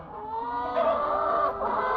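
Chickens cluck steadily at close range, several overlapping calls forming a continuous busy murmur of farm fowl with no talking.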